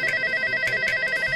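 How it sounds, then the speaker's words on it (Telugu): Telephone ringing for an incoming call, a short electronic ringtone with repeated bright chirping tones, close and clear with no talk. "ఫోన్ చేస్తున్నాడు"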